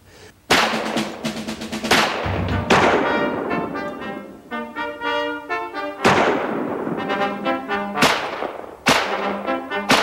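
Automatic pistols are fired repeatedly during government test trials, with loud, sharp shots spaced irregularly. Each report rings out and decays over a tonal musical background.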